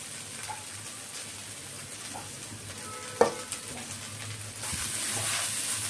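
Egg bhujia is stirred into fried rice in a hot pan: a steady close sizzle with scraping spatula strokes, one sharp clank near the middle, and the frying hiss swelling louder toward the end.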